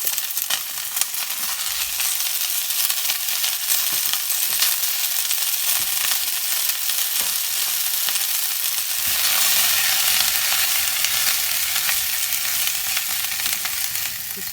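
Tomatoes frying in a pan for a beans and rice dish, giving a steady, loud broadband sizzle that runs unbroken throughout, with a few small pops and crackles and no voices.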